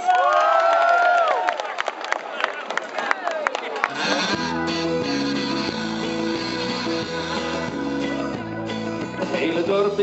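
A live crowd at a village festival performance in Meppel cheers and shouts loudly at first, then the noise gives way after a few seconds to a music intro with the crowd still audible beneath it.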